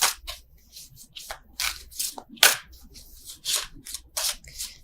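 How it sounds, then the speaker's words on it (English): Tarot cards shuffled by hand in quick papery riffles and slides, a rapid irregular series of close, soft bursts with faint rubbing between them. "I don't know why I'm still shuffling these."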